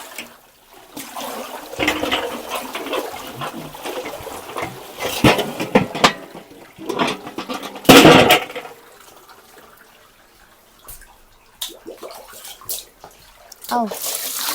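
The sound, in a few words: tap water running for soaking clothes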